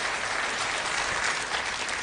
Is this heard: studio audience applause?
yes